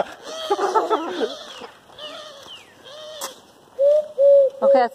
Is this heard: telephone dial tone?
no